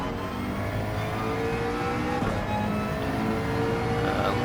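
A Gr3 McLaren race car in Gran Turismo 7 accelerates on the Grand Valley Highway track, its engine a steady, loud, high-pitched drone that holds on throttle with a brief gearshift blip midway, no voices over it.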